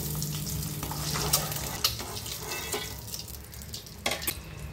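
Eggs sizzle steadily in hot oil in a home kitchen while being lightly fried for egg curry, a continuous crackling hiss with a few sharper spatters and pops across the whole stretch.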